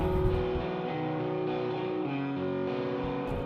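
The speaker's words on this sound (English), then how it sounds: "There's some pretty dirty guitars." A dirty, distorted electric guitar patch plays a simple, sustained supporting line in a folk pop production, with thick layered chords holding steadily and changing a couple of times, loud and alone.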